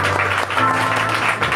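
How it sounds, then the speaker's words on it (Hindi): Applause from a church congregation at a prayer gathering, dense and steady over its short length and fairly loud, with faint speech mixed in underneath. "तालियां"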